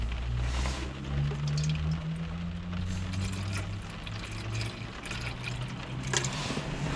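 Water poured into a bowl for Tikka the dog, a steady low gurgling fill running throughout at close range, with a brief louder splash near the end.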